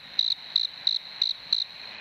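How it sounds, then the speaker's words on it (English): Crickets chirping in five evenly spaced bursts, each a short, bright trill, fairly close and clear over a quiet background with no talk. "Oh, I've missed my crickets."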